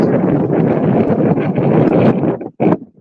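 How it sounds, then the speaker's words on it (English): Strong wind buffets the microphone in loud, rumbling gusts, dropping out briefly near the end before one more blast. "Woo, it's windy."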